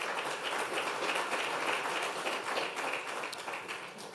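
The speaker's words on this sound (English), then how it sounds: "Let's clap for the business." Audience applause at Safaricom's half-year results announcement, a dense, continuous wash of clapping from a large crowd, fairly loud and even, fading slightly toward the end.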